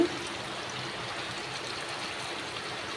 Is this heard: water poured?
yes